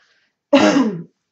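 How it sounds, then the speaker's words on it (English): A single short cough-like burst from one person, loud and close, after a moment of near silence. "I'm so sorry about the coughing."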